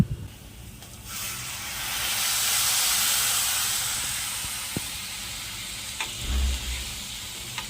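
Moth beans (matki) tipped into a hot pan of spiced mixture hiss and sizzle in a broad, steady wash that swells and fades, with a few faint clinks near the end.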